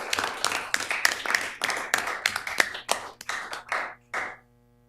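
A round of applause at a county board of commissioners meeting, steady hand clapping from a modest crowd in a hall that thins out and stops near the end.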